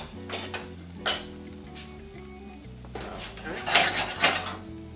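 Dishes, pots and cutlery clink and clatter while a cook clears up and plates food during a healthy cooking demonstration of tomato soup and fried rice, scattered close metallic knocks over a background hum with occasional talk.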